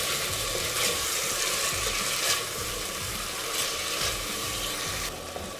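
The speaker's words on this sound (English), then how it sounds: "So cook your tomatoes until they are completely mashed." Tomatoes cook down in a pot for a traditional village pilau, a continuous close sizzle and bubbling with faint scraping stirs running throughout, no voices.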